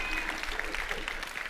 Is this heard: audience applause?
yes